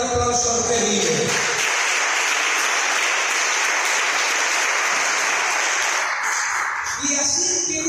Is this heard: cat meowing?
no